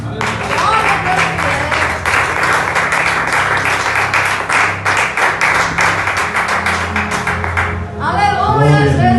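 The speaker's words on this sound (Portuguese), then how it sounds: "Pode aplaudir a Jesus." A church congregation claps together during a worship service, dense steady applause filling the room with music underneath, fading near the end as voices come in.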